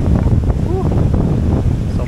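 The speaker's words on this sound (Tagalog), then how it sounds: "Sobrang lakas ng hangin." Strong wind on Balabac Island among pine trees buffets the microphone with heavy low rumbling and gusty noise, while a voice speaks briefly underneath.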